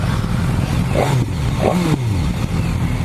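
A 2017 BMW S1000 R with an Akrapovic exhaust revs loudly and close, rising in two sharp bursts that fall back between them, over a continuous engine drone.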